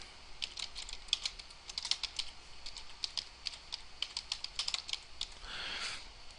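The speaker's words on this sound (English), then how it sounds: "So I'm going to type Mass UI." Quick clusters of close, light keystrokes on a computer keyboard in an office setting, tapping at an uneven rhythm with short pauses, ending in a soft rustle.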